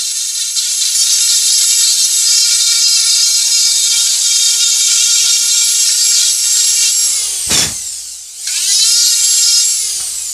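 Dremel rotary tool carving and tapering wood, a loud high-pitched continuous whine that briefly drops and cuts out near the end before spinning back up as the bit grinds into the wood.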